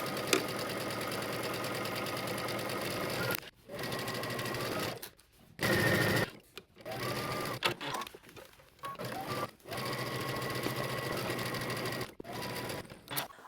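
A home sewing machine runs steadily stitching a 5/8-inch sleeve seam on a Simplicity S3071 garment, close and fairly loud, in several long runs broken by short pauses.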